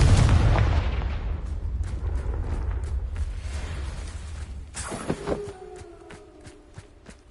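A Confringo blasting spell in Hogwarts Legacy detonates with a heavy, booming explosion up front, its rumble fading over several seconds, followed by a sharp crack and scattered debris-like clatter.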